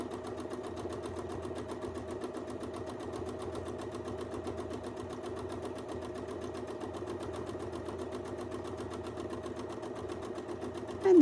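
A sewing machine runs continuously at a fast even pace during free-motion quilting stitching, its rapid needle chatter and motor hum steady and close throughout, ending with a short louder clunk.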